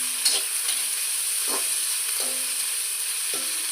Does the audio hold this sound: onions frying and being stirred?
yes